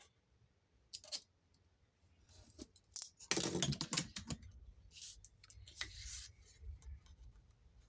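Paper being cut for a butterfly journal, with a few quiet snips and then a louder stretch of scraping, rustling cuts and paper handling, close up with no talk.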